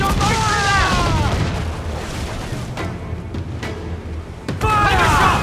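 Ship cannons firing in the video game Assassin's Creed Black Flag: heavy booms at the start and again near the end, with raised shouting voices and game noise between them.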